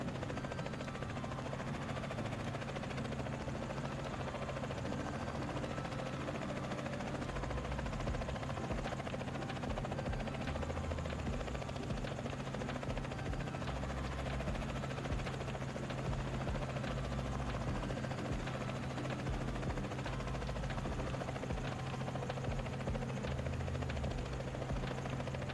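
Helicopter flying in Microsoft Flight Simulator 2024, a continuous droning rotor and turbine hum with a steady low buzz, holding constant and close throughout.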